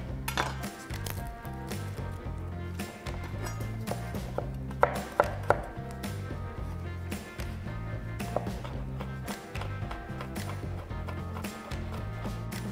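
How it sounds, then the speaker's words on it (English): Garlic cloves are chopped with a knife on a board, a run of quick close taps that is mostly steady, with a few sharper knocks and light clinks of kitchenware and no speech. "Prep your garlic."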